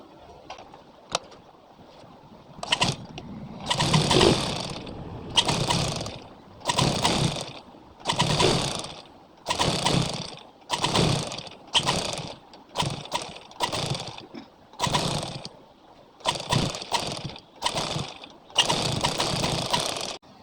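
A sewing machine stitches lace along the hem of a suit, running in about a dozen short, close, even bursts separated by brief pauses, with no talking.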